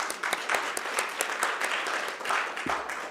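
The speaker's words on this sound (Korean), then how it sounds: "힘을 내서 더 열심히 하시라고 박수 한번 부탁드립니다." Audience applause closing a university education committee forum, a broad, steady wash of many hands clapping throughout, moderately loud in a hall, with a brief low thump near the end.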